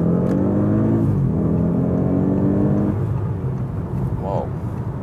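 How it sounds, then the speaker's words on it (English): An Audi S8 Plus with a 605 hp V8 accelerating hard onto a German Autobahn, its engine note climbing steeply through the gears with a brief shift break, heard close from inside the cabin. "we accelerate very hard now to take on that motorway"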